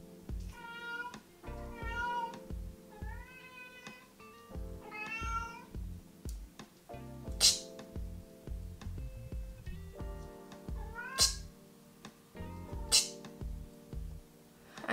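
An outdoor house cat meows again and again in short, rising calls with brief gaps between them, close and clear, while a voice briefly speaks once.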